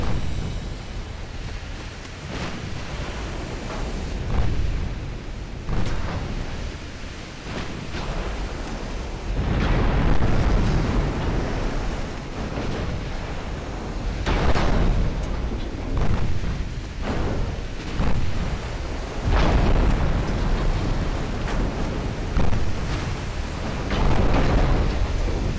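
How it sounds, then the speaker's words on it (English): A storm at sea in Ultimate Admiral: Dreadnoughts: a constant roar of wind and crashing waves, with heavy rumbling surges and booms rising and falling across the whole stretch. "And this is in a storm."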